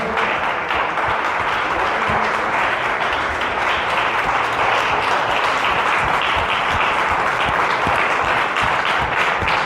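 A church congregation claps together in a sustained, even roar of applause that holds at full strength throughout, many hands close and far blending into one continuous sound, with only faint murmurs beneath.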